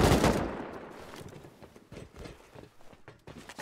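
Gunfire in the video game Rust, with a loud close shot at the start followed by a rapid, uneven string of fainter shots and clatter that tails off over a few seconds.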